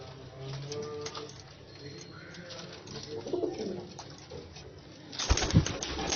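Kamagar pigeons, a rare Lahore flying breed, coo softly in a home breeding loft, low throaty murmurs under background rustle, ending with a louder burst of wing flutter or movement close by.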